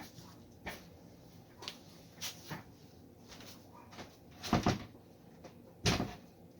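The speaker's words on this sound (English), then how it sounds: "Hang on, I gotta shut that door." Several scattered thumps and knocks, one firm bang near the end, like a door being pushed and shut nearby in a quiet room.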